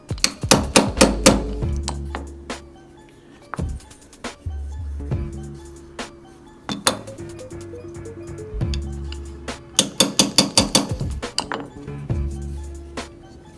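Sharp metallic taps of a hammer driving a roll pin punch into a rifle stock part, coming in quick bursts of rapid strikes separated by pauses, with some lighter clinks in between.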